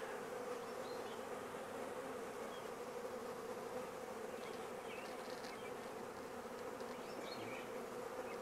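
A honeybee swarm buzzes steadily around a tree, a dense continuous drone that fills the whole clip at an even, close, moderately loud level with no voices.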